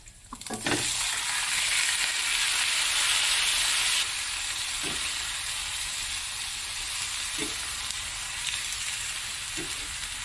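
A tuna head sautés in a pan as the start of a paksiw dish. A clank opens a strong, steady sizzle close by, with occasional light stirring taps over the constant hiss.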